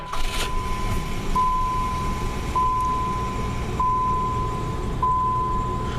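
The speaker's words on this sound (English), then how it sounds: "So this is kind of a quiet car. It's all stock, it's all original, so you don't hear a whole lot except just the smog pump." A stock 1987 Plymouth Gran Fury idles with a low, steady rumble and a smog pump running. A thin high tone cuts in and out at intervals over the engine.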